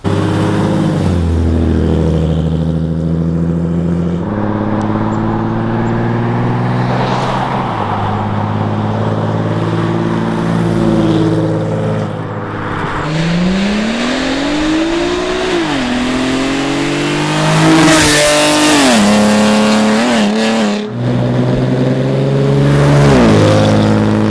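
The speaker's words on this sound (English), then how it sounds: "let's go ahead and get the car out on the road and get you some exterior shots of the car driving by" A V6 Camaro with a ZL1 exhaust and no catalytic converters drives past on a road. The engine revs loudly and rises and falls in pitch as it accelerates through several gears, with no talk over it.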